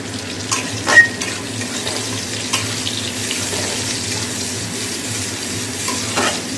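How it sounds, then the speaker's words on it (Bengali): Onions frying in a pan give a steady, close sizzle that runs throughout, with a few soft clicks and scrapes from stirring and no talking. "পেঁয়াজগুলো ভেজে নিই"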